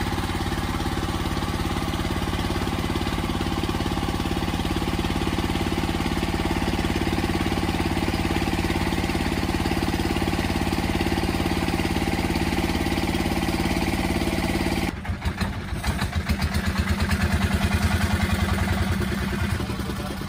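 A wooden ferry boat's engine runs steadily during a river crossing in East Kalimantan, a constant close mid-pitched chugging drone with clatter, briefly disturbed partway through before settling back into a slightly louder run.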